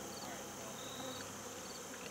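A steady, faint hum of honeybees buzzing around a hive on a farm in late autumn, continuous and diffuse with no distinct individual passes.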